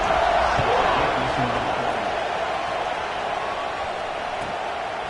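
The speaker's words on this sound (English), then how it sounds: "this crowd is buzzing after that last score" A football stadium crowd buzzes steadily after a score on a wet field, forming a broad, continuous roar. A commentator talks over it.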